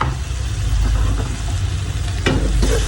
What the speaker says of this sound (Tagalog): nilagyan ko na po ng pamintang durog sa kamatis habang ginigisa